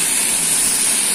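Water poured in a steady rushing stream into a pot of bottle gourd and moong dal payasam, a continuous close hiss and splash with no break.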